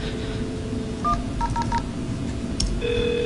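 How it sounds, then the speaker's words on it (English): Telephone keypad dialing into an Asterisk server: a short series of crisp DTMF tones, one then a quick run of three, over a steady background hum, followed by a brief higher tone. "I'm just going to dial into the Asterisk server and let it play the voice prompts for that side of the connection."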